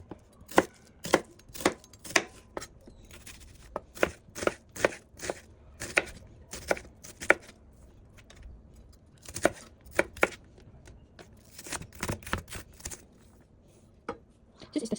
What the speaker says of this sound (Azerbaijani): Bir dənə də soğanı xırda doğrayıb tavaya əlavə edəcəyik.